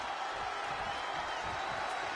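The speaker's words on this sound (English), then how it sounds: "cheering on Cutie Pie" A wrestling crowd at a women's independent show cheers steadily for Cutie Pie, a faint, continuous wash of distant voices and whoops with no single sound standing out.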